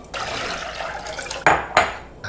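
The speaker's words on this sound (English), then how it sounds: "water's boiling" Water boils in a pot for a chicken brine, giving a steady close hiss and bubbling, broken near the end by two sharp metallic clanks of a pot or utensil.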